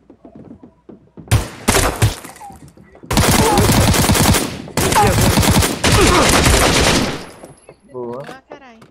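Gunfire in the Knives Out video game, with a short burst, then long sustained automatic fire in two loud stretches separated by a brief pause. A voice talks faintly between volleys.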